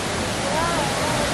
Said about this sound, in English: So right now we at the main fall.